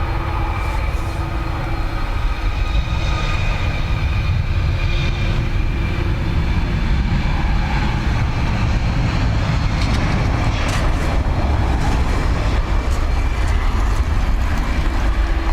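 WestJet airliner taking off from runway 10 right at Dublin Airport in wind and rain, a steady loud engine roar holding level throughout with broadband rumble and a sustained mid tone, no voices.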